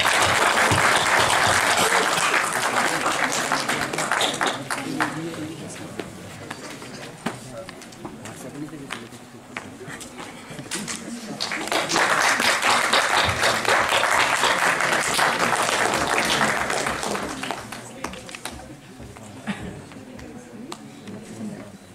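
Sustained applause from a university audience honouring eminent guests at an MBA event on entrepreneurship and NBFCs, rising and falling in two loud waves with voices mixed in.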